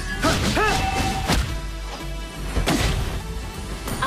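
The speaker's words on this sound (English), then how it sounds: "Our turret has been destroyed." A turret is destroyed in Mobile Legends with a loud crashing smash and heavy thuds over busy in-game effects and swooshes, with a second impact a little later.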